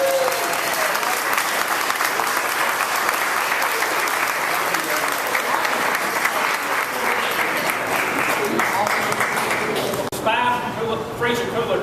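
Sustained applause fills a room at a company meeting, a dense crowd of clapping hands that carries on for about ten seconds before tapering into scattered claps.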